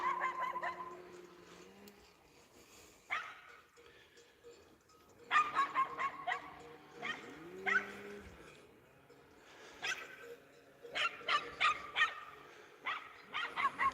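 A small mule-type farm dog barks repeatedly at wild boars on a rural estate, with sharp, fairly close barks in irregular bursts and yips, mixed with fowl calls and a voice speaking at times.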